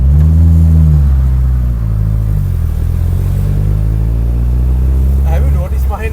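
Classic Austin Mini Moke engine rumbling loudly and revving as the small open car pulls away, a steady low drone with gear-shift changes in pitch, while people talk over it.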